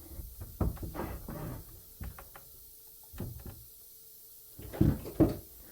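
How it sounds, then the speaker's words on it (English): A large wooden cabin door on homemade hinges swings open and shut, with several wooden knocks and creaky thuds spread through the clip and two louder bangs near the end, close and fairly quiet. "the door could freely swing all the way open and close with no problem"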